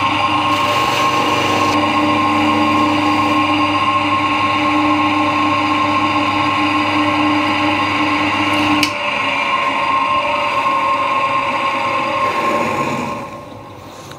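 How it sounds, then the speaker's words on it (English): A softer buffing wheel spins steadily while polishing a part for a Royal Enfield Bobber motorcycle, giving a loud, even mechanical whir with a faint hum that shifts slightly partway through and fades near the end. "Then we'll put a softer wheel in and give it a good shine."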